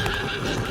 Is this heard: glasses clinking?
no